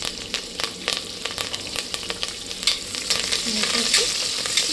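Chopped onions and curry leaves frying in oil in a pan, a close bright sizzle broken by sharp spattering pops and occasional scrapes of a spoon, building slightly louder toward the end.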